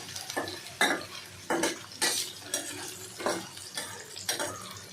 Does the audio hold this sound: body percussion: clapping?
no